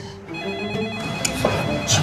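A telephone rings during a tense drama scene in which a call from kidnappers is awaited, a brief electronic ringtone trilling through a quiet room for two seconds.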